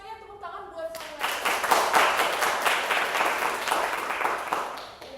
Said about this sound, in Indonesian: semuanya tepuk tangan buat Samuel.